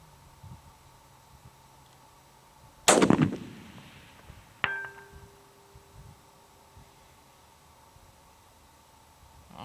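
A rifle fires a single loud, sharp shot of hand-loaded ammunition outdoors at a long-distance range, followed by a metallic ring from a steel target about two seconds later, then quiet.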